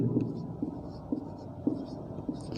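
Pen or chalk writing out numbers during a Class 6 maths lesson on equations: a series of short scratchy strokes in an uneven rhythm, close and moderately quiet, with a soft voice faintly beneath.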